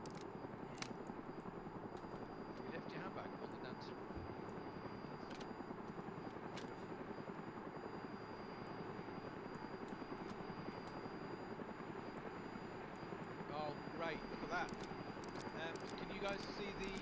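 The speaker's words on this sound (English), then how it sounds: "Helicopter is airborne." In the DayZ video game, a helicopter flies airborne near an airfield in Takistan, its steady rotor and engine drone filling the clip as a constant low rumble with occasional sharper clicks on top.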